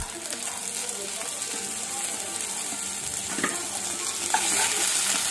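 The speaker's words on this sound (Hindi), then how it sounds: "इसको भी 5 मिनट फ्राई करना है।" Onions sizzle in hot oil with ginger, garlic and dried chilli paste while being stirred, a steady close frying hiss with occasional scraping and clinks and a few faint voice sounds.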